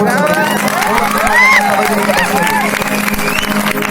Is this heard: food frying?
no